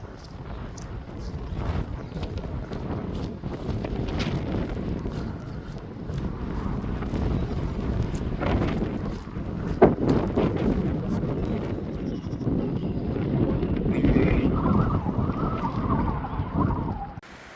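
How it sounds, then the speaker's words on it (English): Wet, cold wind blows at night on a New Zealand sheep farm during lambing season, a continuous rough buffeting with gusts and microphone rumble, steady throughout with faint scattered knocks. "It's wet and it's cold and it's blowing."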